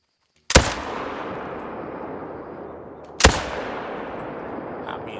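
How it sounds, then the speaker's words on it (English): Two loud hunting rifle shots aimed at a whitetail deer in theHunter: Call of the Wild, about three seconds apart, each a sharp crack trailing into a long rolling echo across open country. "I'm going to shoot this one first."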